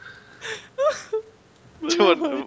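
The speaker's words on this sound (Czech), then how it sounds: "On bulí, ty vole, on brečí." A person crying in short bursts of wailing and whimpering sobs with gaps between, fairly close and loud, with no other voices.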